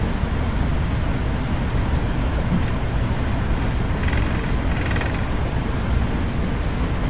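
PMDG Boeing 777 taxiing in the FSX flight simulator, a steady low engine rumble with dense broadband roar throughout and no distinct events.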